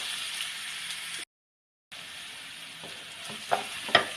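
Jackfruit thoran (chakka poothal) being stirred in a pan, a steady sizzle of frying with a short silent gap, then a couple of sharper scraping clinks from the spoon near the end.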